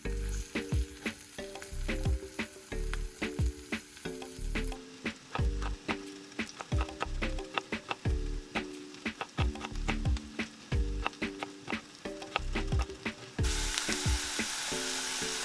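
Shallots frying in olive oil crackle in a continuous sizzle, with a rhythmic music track running loudly over the cooking sound throughout.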